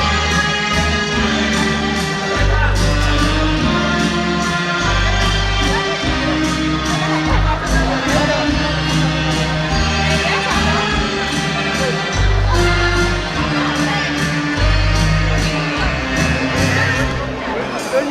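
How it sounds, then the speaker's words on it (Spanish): Wedding guests at a celebration in Ameyaltepe applaud and cheer for the newlyweds, a loud crowd swell that runs steadily over booming dance music, with voices calling out throughout. "Y venga esos aplausos fuertes que se escuchen"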